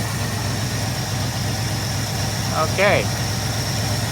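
A car engine left abandoned for 29 years idles low and steady, a close, even hum that barely changes, while a person briefly speaks over it.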